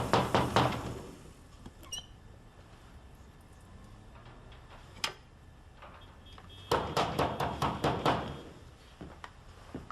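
Knocking on a door, a hard burst of raps at the start, a few isolated taps, then a steady series of about eight firm knocks near the end, close and loud with no talking.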